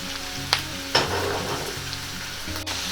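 Ground chicken drops into a pan of sizzling onion and garlic, followed by a continuous frying hiss and a couple of sharp scrapes as it is stirred and broken apart.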